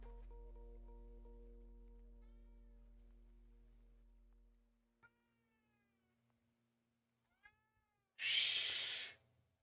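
Domestic cat meowing indoors: a few short, faint meows spaced apart over a fading low hum, followed by one louder, breathy, drawn-out cry close by.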